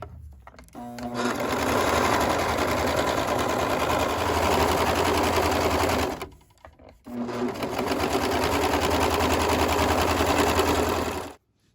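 Sewing machine running a sleeve seam: two long, loud, steady bursts of rapid needle hammering, close by, separated by a brief stop near the middle.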